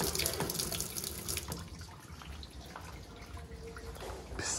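Water splashes and streams steadily, like a running spray hitting a toy truck, continuous and fairly close with no talking.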